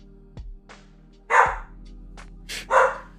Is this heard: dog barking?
yes